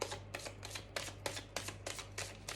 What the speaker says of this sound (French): je vais prendre quelques cartes